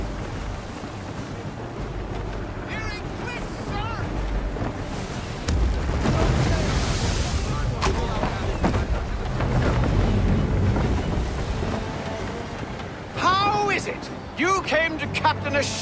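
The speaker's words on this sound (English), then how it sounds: "How is it you came to captain a ship, given the way you sail?" A sailing ship moving through open water in the game Assassin's Creed III, with rushing wind and surging waves throughout, rising in the middle, while voices talk over it.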